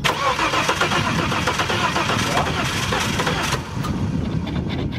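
A car engine, just back from radiator repair, turns over and runs at a close, steady mid-pitched idle, with voices talking over it throughout.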